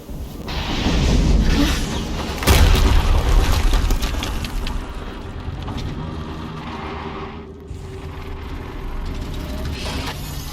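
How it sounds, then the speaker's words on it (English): Explosions in the video game Horizon Zero Dawn, heavy low booms opening the passage and a second strong blast near the middle, followed by a sustained rumbling mechanical drone with no speech. "Another explosion."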